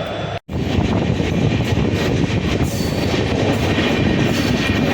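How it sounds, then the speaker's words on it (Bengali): A passenger train travels from Ayodhya to Haridwar, heard from on board as a loud, continuous rumble and rattle of carriages and wheels close by. A brief dropout comes near the start, and there are no voices. "তাই তো ট্রেন ছেড়ে দিয়েছে।"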